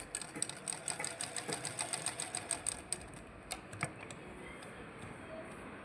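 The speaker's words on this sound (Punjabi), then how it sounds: "ਤਿੰਨ ਚਾਰ ਸਲਾਈਆਂ ਜਿਹੜੀਆਂ ਮੋੜ-ਮੋੜ ਕੇ ਮਸ਼ੀਨ ਉਹ ਲਾ ਦੇਣੀਆਂ" A sewing machine stitches cloth for a kachhera in a fast, steady run of mechanical ticking, then slows to a few separate clicks as the stitching stops.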